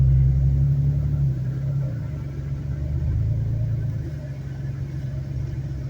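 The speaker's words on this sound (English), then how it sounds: "military truck with 8 missiles on it." A U.S. Army military truck carrying rocket launchers drives past on a Dayton, Ohio road. Its engine gives a low, steady rumble that swells and fades slightly, with no voices.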